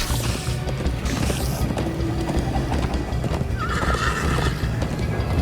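A horse whinnies and gallops in the Minecraft Story Mode video game, pounding rhythmic hoofbeats under shrill neighs, loud and close throughout.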